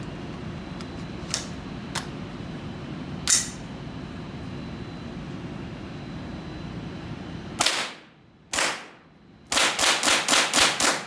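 A Kriss Vector rifle chambered in .22LR fires close by, first a few scattered single shots, then two sharp reports with brief pauses, ending in a fast run of about seven shots in quick succession over steady outdoor background noise.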